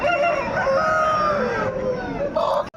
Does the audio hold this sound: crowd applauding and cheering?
no